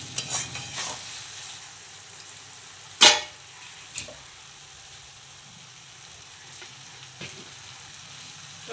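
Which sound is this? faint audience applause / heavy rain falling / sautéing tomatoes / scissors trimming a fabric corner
sautéing tomatoes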